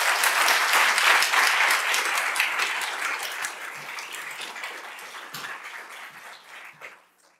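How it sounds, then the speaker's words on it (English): A lecture audience at Pitzer College applauds loudly and steadily, the dense clapping gradually thinning and fading out over about seven seconds. "please give Annie and Stan a round of applause."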